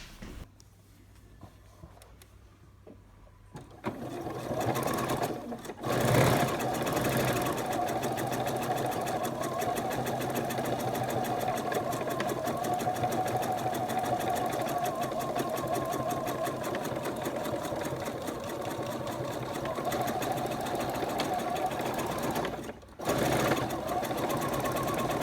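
A sewing machine runs steadily for a long stretch as it stitches around fabric with a quarter-inch seam allowance, loud and close, with a couple of brief pauses and a quiet start.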